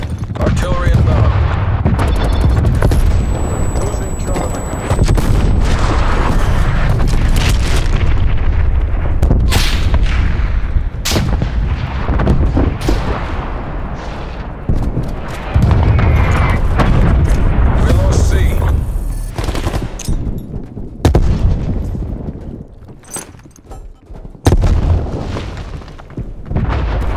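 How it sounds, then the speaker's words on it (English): An artillery barrage in the video game Black Ops Cold War: heavy, booming explosions land one after another with rattling gunfire between them, loud and close, while radio voices talk through the chaos. "Artillery inbound."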